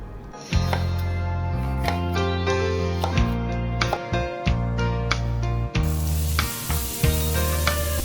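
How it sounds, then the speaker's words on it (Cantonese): Chopped red pepper stir-frying in a hot wok for a sweet-and-sour ketchup tofu dish gives a steady, loud sizzle broken by repeated clacks and scrapes of the spatula. "切好咗嘅紅椒都係倒埋落個鑊度，將佢哋炒勻佢，等佢哋受熱均勻。"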